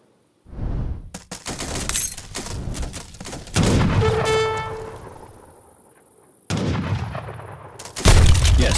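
Bursts of gunfire and battle noise from attacking units in Age of Empires III: The WarChiefs, loud and close, arriving in separate clusters with short pauses between them.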